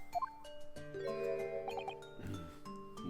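Bells ringing in the video game The Great Ace Attorney, a sequence of clear chiming tones that ring and sustain, overlapping in layers over several seconds.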